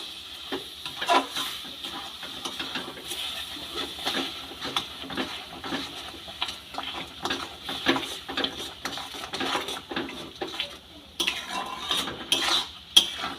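Raw mango pieces stirred with sugar in a pot for a jelly-like chutney, giving soft, repeated scraping and clinking of a utensil against the vessel, fairly quiet and continuous, no speech.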